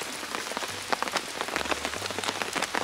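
Steady rain patters on surfaces at a remote mountain forest campsite, a dense, continuous hiss of drops with scattered brighter splats close by, no voices.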